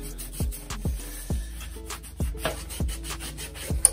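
A cloth wipes over the chrome parts of a Peugeot 103 S moped during cleaning. Close, rhythmic rubbing strokes repeat about every half second, each ending in a soft thump, with no voices.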